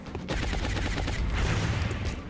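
Rifle fire from a soldier in XCOM Long War, a dense burst of rapid shots that runs steadily for about two seconds at moderate loudness, with no talking.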